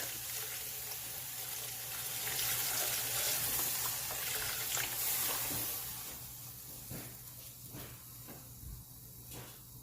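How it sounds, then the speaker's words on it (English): Stock pours into a pot for Trinidad corn soup, a steady watery hiss and splash running for several seconds, loud and close, then easing off into quieter intermittent clinks and stirring. "And we're going to add in our stock."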